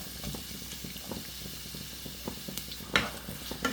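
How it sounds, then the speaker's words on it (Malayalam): Two large onions, sliced lengthwise, sizzling in hot oil in a kadai, giving a quiet, steady crackle with a few sharper clinks and pops near the end, close by and without talking. "എണ്ണ ചൂടായിട്ട് വരുമ്പോൾ രണ്ട് വലിയ സവാള ഇതിലേക്ക് ഇതുപോലെ നീളത്തിൽ മുറിച്ചതിട്ട് കൊടുക്കാം"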